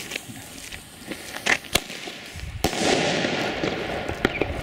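A Katan Sander King firework bomb tube goes off outdoors with two sharp, loud cracking blasts a second apart, each followed by a crackling, rumbling tail over steady background noise.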